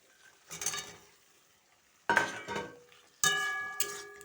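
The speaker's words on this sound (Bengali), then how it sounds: "এইটা ভালোভাবে আমি মাংসটা মশলায় ভালোভাবে কষে নেব।" Country chicken meat stir-fried in a spice paste, with three separate bouts of spatula scraping and sizzling against the pan, each swelling and fading, separated by quiet pauses.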